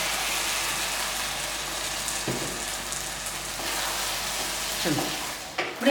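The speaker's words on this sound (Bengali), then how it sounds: "আমি 1 টেবিল চামচ কর্নফ্লাওয়ার একটু জলে গুলে এই গোলাটা এর মধ্যে দিয়ে কিছুক্ষণ নাড়াচাড়া করব" Cornflour slurry being stirred into a simmering chilli baby corn gravy, a steady close bubbling sizzle with soft scraping of the spoon, continuous for several seconds.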